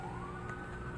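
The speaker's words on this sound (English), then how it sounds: "I apologize for the siren noise." A wailing emergency siren rises steadily in pitch, sounding from a moderate distance over low traffic rumble, with no one talking.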